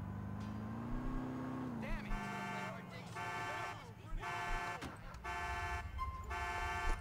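A car is stolen in a police video game set with German police and a 2015 VW Passat B7 facelift: an engine revs and shifts, then a string of sharp electronic horn-like tones repeats, while someone talks over it.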